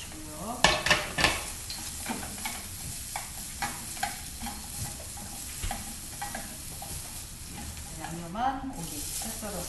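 Seasoned shiitake mushrooms stir-fry in a pan, a soft steady sizzle broken by repeated scraping and clacking strokes of a utensil against the pan, close and fairly quiet.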